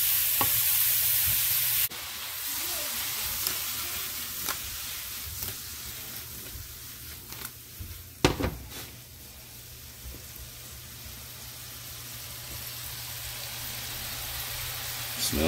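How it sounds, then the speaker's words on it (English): Apples sautéing gently over medium heat in a pan for a sourdough apple pie bread, a steady soft sizzle broken by occasional clatters and scrapes as they are tossed, close by, with no talk over it. "it was about 3 minutes of just letting them kind of gently saute here while tossing them"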